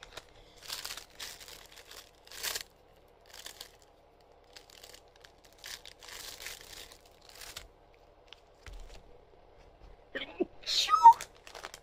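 Gift packaging crinkled and handled while wrapping presents indoors, scattered quiet rustles and crackles in short bursts separated by silence, with a brief louder crinkle near the end.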